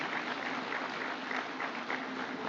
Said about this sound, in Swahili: Simameni tupigie makofi huyu mama.